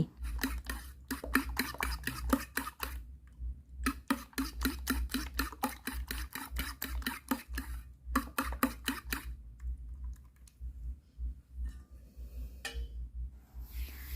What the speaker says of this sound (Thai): ตีไข่ให้ขึ้นฟูเลย